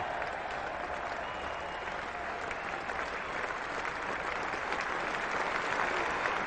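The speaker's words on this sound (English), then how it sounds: "a pleasant task for Mohammad Azharuddin to be applauding yet another fine performance from one of his younger players" Spectators at a 1996 England versus India Test match applaud a batsman reaching fifty, with steady, sustained clapping from a large cricket crowd that fills the whole stretch without pause.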